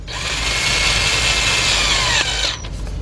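A cordless power gun spins a spark plug into the engine of a Hyundai XG350, giving a loud, close, sustained high whir for about two seconds before slowing and stopping, with no talk.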